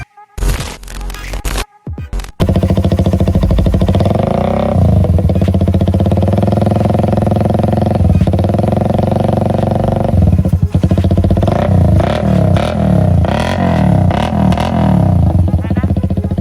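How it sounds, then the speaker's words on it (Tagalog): Rusi street bike converted to a fuel-injected R150 engine with CNC block and head, idling loudly and revving repeatedly for about fourteen seconds after a few brief handling clatters at the start. "Mamaya i-sound check natin itong kanilang Rusuki na Panta street bike."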